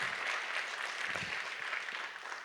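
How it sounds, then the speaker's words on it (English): An audience claps in steady, dense applause for a couple of seconds, fairly faint and diffuse as if heard from across a hall. "So my round of applause for all the people who have done this"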